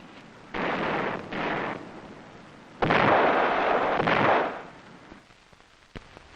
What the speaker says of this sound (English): In return, they opened up with their 20-millimeter cannon.